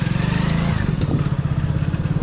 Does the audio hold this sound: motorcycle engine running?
yes